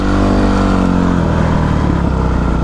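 A KTM adventure motorcycle engine runs loud and close, a steady mid-pitched drone with a low rumble that shifts slightly as the revs change, heard alone without voices.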